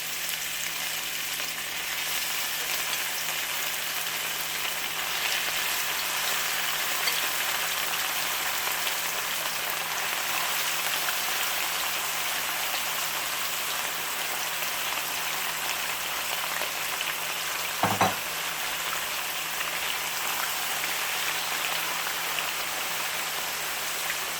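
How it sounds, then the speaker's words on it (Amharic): Meat sizzles in well-heated oil in a pan for Ethiopian shekla tibs, a steady, close crackling hiss throughout with one brief clatter near the end and no talk. "ተመልካቾቼ ያው ዘይቱ በደንብ ግሏል። ስለዚህ ስጋችንን በቀስታ እንጨምራለን ማለት ነው።"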